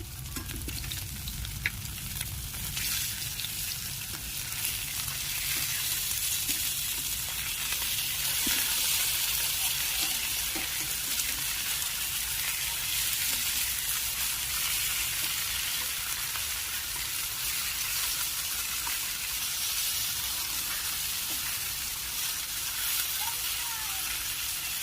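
Pieces of katla fish fry lightly in a pan with a continuous, even sizzle and soft crackle, steady and close throughout with occasional faint utensil taps.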